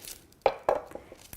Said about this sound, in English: So I'll move this to the side and make a cut in the onion